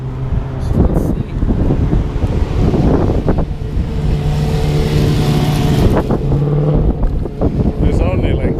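A red altered drag car launches down a drag strip with a loud, sustained engine roar, heavily buffeted by gusting wind noise on the microphone, with bursts of louder rumble along the run.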